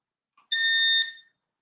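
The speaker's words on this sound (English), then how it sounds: "Let me start our timer." A workout timer sounds a single electronic beep at the start, a bright, steady tone lasting about half a second, clear and alone in silence.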